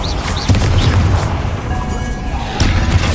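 Heavy booming blasts from a Confringo spell in the video game Hogwarts Legacy land in quick succession, loud and close over a rumbling layer of combat noise.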